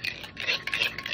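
Ranch dressing and hot sauce being stirred together in a container, a soft, close scraping and swishing that runs continuously for about a second with no talk.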